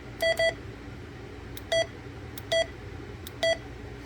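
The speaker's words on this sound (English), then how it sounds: "You can turn that beep off or on, whatever you want to do." Short electronic beeps from a President Lincoln II CB radio, about five tones at irregular intervals, two close together then three spaced apart, alone over a low steady hiss.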